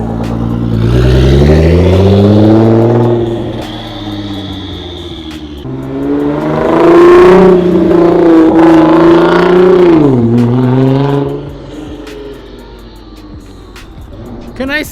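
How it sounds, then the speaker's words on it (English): A Nissan GT-R Track Edition engine revs hard and loud from inside the car, rising and falling through several surges with a deep droning tone, then settling to a lower idle as people talk over it. "This car is so loud."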